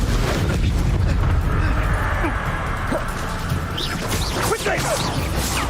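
Explosions from the Confringo blasting spell in Hogwarts Legacy go off as loud booms and crashes over dense, continuous combat noise.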